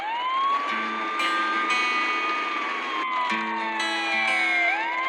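A wailing emergency siren sweeps slowly up and down, loud and close, with a second tone layered in briefly.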